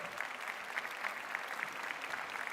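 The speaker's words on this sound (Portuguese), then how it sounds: "Um aplauso, por favor." Applause from an audience at a Portuguese parliamentary debate on nursing autonomy, a steady dense patter of many hands clapping at moderate volume for the whole stretch, with no talk over it.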